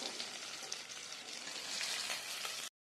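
Sliced onions frying in hot oil over a medium flame give a steady, dense, close sizzle that holds evenly throughout and then cuts off abruptly.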